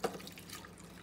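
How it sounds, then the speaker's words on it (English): Soapy cleaning liquid poured into a copper top hummingbird feeder, a soft, faint trickle and dribble of liquid heard alone, with no talking. "Now, I'm going to just pour this in here,"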